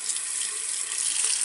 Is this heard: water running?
yes